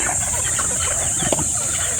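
Chickens clucking softly amid a noisy farmyard background, with a steady high-pitched hum throughout.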